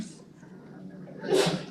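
A single short sneeze cuts through a quiet meeting room near the end, after faint background murmur.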